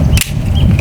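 A single sharp, loud crack of an AEA Defender 2 high-power air rifle firing, a brief burst against steady low background rumble, with no talk.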